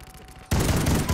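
Video game gunfire: an abrupt, loud burst of dense shooting erupts after a quieter moment and continues steadily to the end.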